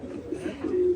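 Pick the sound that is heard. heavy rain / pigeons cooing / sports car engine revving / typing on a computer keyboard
pigeons cooing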